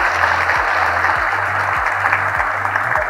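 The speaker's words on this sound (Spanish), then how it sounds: "Así que un aplauso, por favor," A conference audience breaks into sustained clapping, a dense even wash of applause running throughout, with a low rhythmic thumping beneath it.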